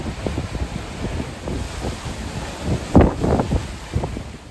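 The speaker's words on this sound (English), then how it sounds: "The spray is literally coming up here." Choppy waves slap and spray rises beside a cruise ship deck on a Scandinavian voyage through a rough channel. Steady wind buffets the microphone over a continuous rushing surge, with a stronger splash near the middle.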